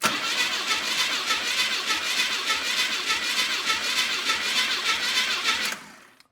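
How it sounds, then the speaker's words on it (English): Engine of a 1982 Firebird left abandoned for 25 years cranking on a remote starter during a compression test, a steady rhythmic whirring churn without firing, close and loud, stopping abruptly near the end. "I got the old Start-O-Matic hooked up, and I've got the compression gauge in cylinder 1"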